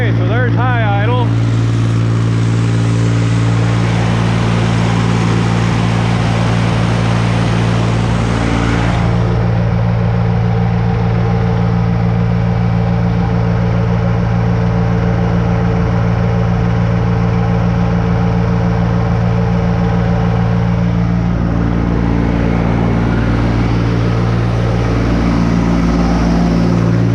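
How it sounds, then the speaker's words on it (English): A 484 tractor engine runs at high idle, a loud, steady, unbroken mechanical drone that holds constant throughout, close to the machine. "Okay, so there's high idle."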